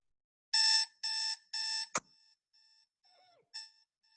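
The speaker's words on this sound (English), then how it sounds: "Every morning, my alarm clock wakes me up for school." An alarm clock rings three times in loud, even electronic bursts, then gives a sharp click and a fainter beeping pattern before one last ring, heard alone.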